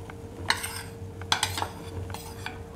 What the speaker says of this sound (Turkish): Üzerine 1 su bardağı süt, 1 su bardağı sıvı yağ ekleyerek tekrardan çırpıyoruz